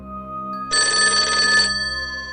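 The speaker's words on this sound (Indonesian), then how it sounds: "Suatu hari, telepon rumah itu berdering." A single short burst of a telephone's electronic bell ring, loud and close, over a steady low background hum.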